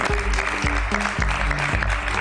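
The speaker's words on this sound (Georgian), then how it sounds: "ლალის კიდევ ერთხელ აპლოდისმენტები" A studio audience claps in a steady, dense patter, with a thumping musical beat and tones running underneath.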